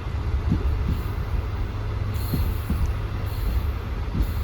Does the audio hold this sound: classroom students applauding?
no